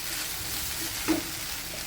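Half-cooked okra tossed back into a pan and stir-fried with salt, turmeric and chili powder gives off a steady low sizzle, with one sharper scrape of the spatula midway, heard close and without speech.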